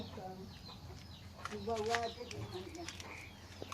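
Chickens clucking around a rural home garden where durian trees are planted, a few soft clucks and calls scattered over quiet outdoor background, faint and at a modest distance.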